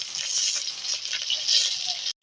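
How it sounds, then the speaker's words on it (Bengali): Fish frying in a pan at home produces a steady, close sizzle with crackling spatter that continues unbroken, then cuts off abruptly at the very end. "ওইদিকে মাছটা ভাজা হচ্ছে"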